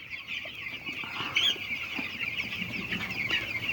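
Broiler chickens on a hen farm cluck and chatter steadily in a dense flock, a continuous close murmur of many birds with occasional sharper calls rising above it.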